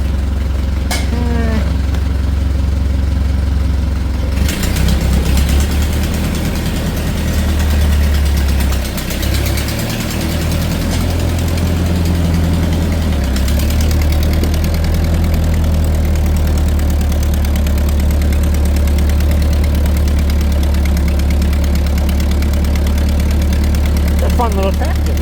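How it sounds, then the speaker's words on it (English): A Ford 8N tractor engine idles steadily and close by, a continuous low rumble that holds throughout with small shifts in tone. "Fun little tractor."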